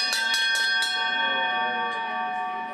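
A bright bell rings four quick times, then its metallic tone hangs and slowly fades, with a couple of softer strikes later.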